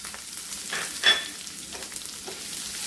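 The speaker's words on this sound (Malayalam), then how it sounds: "ഉള്ളി ചെറിയ ഉള്ളി വട്ടത്തിലരിഞ്ഞാണ് ഞാൻ എടുത്തിരിക്കുന്നത് ഇത് ഇതിലേക്ക് ഇട്ട് കൊടുക്കാം" Sliced shallots frying in a pan for a Kerala onion thoran, a soft, steady sizzle with faint stirring scrapes and one brief louder crackle, close and quiet with no voices.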